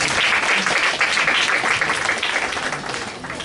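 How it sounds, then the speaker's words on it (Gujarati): An audience at a Gujarati song evening gives sustained, dense applause to welcome a speaker, loud and steady throughout before fading slightly at the end. "પ્લીઝ એને પણ તાળીથી વધાવો."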